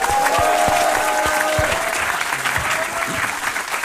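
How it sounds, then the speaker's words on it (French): A live audience at an awards event applauding, a loud sustained burst of clapping from many hands that gradually thins toward the end. "Je vous demande d'applaudir Splinter,"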